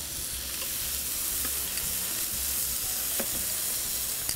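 Potatoes sizzle steadily as they sauté in a hot pan, a continuous frying hiss with small pops and occasional stirring, close and moderately loud throughout.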